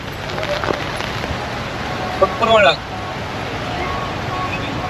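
Steady heavy rain hisses throughout in Madha, Oman, with a brief voice cutting through partway.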